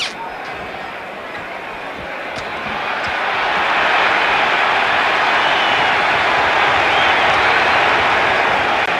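Spectators at a lightweight championship boxing bout between Ken Buchanan and Ismael Laguna break into sustained applause and crowd noise that builds and stays loud and dense throughout.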